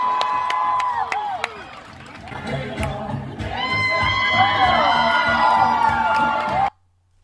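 A movie theater audience at a 2019 Marvel film erupts in loud cheering, with whoops, yells and shrill shouts layered over a sustained crowd roar for several seconds before cutting off abruptly.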